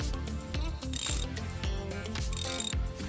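A socket wrench fitted with a 10 mm socket ratchets in quick clicking runs, loud and close, while working on a car's spark plugs.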